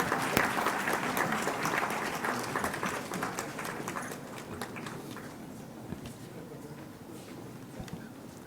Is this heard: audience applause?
yes